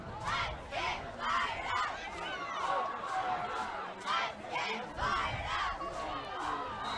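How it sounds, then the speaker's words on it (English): Crowd at a regular-season finale high school football game in Baldwin cheers and shouts in loud, surging waves throughout, with a dense mass of voices rising and falling close by. "Pretty good crowd on hand, though, for the regular season finale here in Baldwin."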